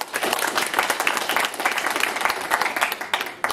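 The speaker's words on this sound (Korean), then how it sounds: "자, 함께 시작하면 박수를 치면서 시작하겠습니다." Crowd applause opening a MMA kickboxing demonstration event, a dense, lively burst of many hands clapping with uneven peaks, fairly loud and continuous.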